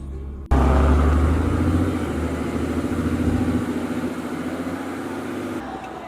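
A Cummins diesel truck starts up and rumbles with its exhaust brake engaged, a loud sudden onset followed by a steady low throbbing engine drone that fades slightly near the end.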